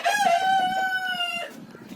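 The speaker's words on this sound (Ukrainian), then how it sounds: "Вийшли тільки пітушки тільки вийшли, півники." A rooster crows once in a village, clear and close, a long drawn-out call that trails off into faint background noise.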